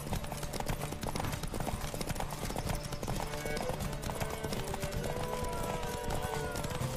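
Steady clip-clop of horses galloping in a Witcher 3 horse race, a continuous rapid hoofbeat rhythm with occasional whinnies over game music and ambience.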